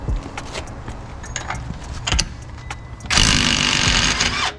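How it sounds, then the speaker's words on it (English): A cheap cordless impact gun with a 30mm 12-point socket hammers at the axle nut of a BMW Z3, a loud buzzing rattle bursting in after a stretch of clunking and handling noises, close and without talk. "Let's go see if this TikTok impact gun can take off a BMW axle nut."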